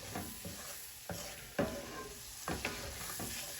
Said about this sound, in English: I slowly add the flour so I can mix it up and not get too many lumps in it